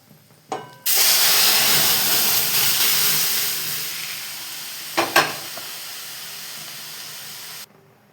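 Mustard seeds and five-spice tempering hit hot oil for dal and burst into a loud, steady sizzle, with a couple of sharp pops partway through before the frying cuts off.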